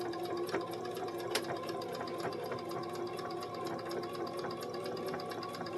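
A domestic sewing machine runs steadily while stitching fabric with a binding clip, a continuous whirring drone with faint mechanical ticking, fairly close and without talk.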